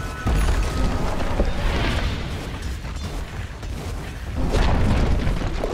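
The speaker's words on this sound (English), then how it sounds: "Dire's bottom tower has fallen." Dota 2 tower collapsing amid a loud game battle, with dense booming, crumbling and mechanical impacts running throughout and a heavier burst near the end.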